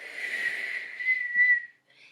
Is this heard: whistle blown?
yes